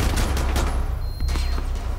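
Rapid hip-fire gunfire in the video game Rainbow Six Siege, a dense continuous burst of shots lasting about two seconds with a short break midway, loud and close.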